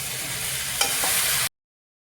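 Soybean chunks and cauliflower fry and get stirred in a hot wok, a steady broadband sizzle with a scraping stir midway, close and loud, then cutting to silence.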